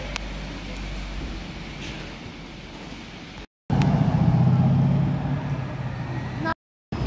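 A tuned car with an add-on piece fitted at the front drives past on the road, its engine growing louder partway through and carrying steady road noise, with short gaps of silence between passes.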